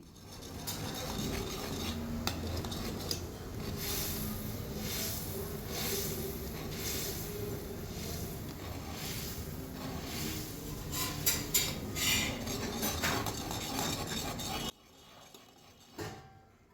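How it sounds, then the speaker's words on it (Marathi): Chickpea flour stirred into boiling water for zunka with a spatula in a pot, a continuous scraping, swishing stir with rhythmic pulses and occasional clinks against the metal, ending abruptly in near quiet. "एका हातानं पीठ टाकायचं आणि एका हातानं आपल्याला कावीतनं असं ढवळायचं आहे, म्हणजे गुठळ्या होत नाहीत."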